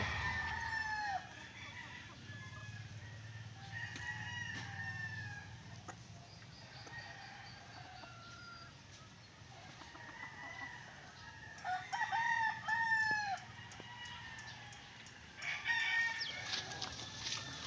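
Several gamecock roosters crow in sequence on a farm after bathing and deworming, with clucks and farmyard bird calls between crows, fairly close and moderately loud, with a low hum underneath.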